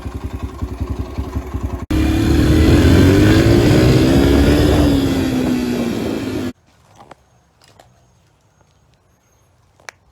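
A Yamaha 125 dirt bike with a thumb throttle fires up after light clatter, its engine roaring loud and close for several seconds as the pitch climbs and falls, then it cuts off abruptly into near quiet.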